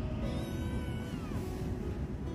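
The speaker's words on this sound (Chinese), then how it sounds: "闻到了肉味，小奶猫们都很兴奋呀，不停地喵喵叫着" Several stray kittens in a backyard meow repeatedly and eagerly at the smell of meat, their high wavering cries overlapping close up above a loud, rumbling low background.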